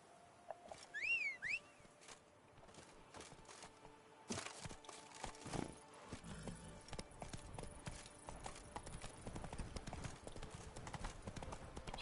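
Roach the horse clip-clops in the Witcher 3 Blood & Wine expansion, with crisp, near hoof strikes in an uneven walking rhythm over quiet game ambience and a brief bird-like whistle early on.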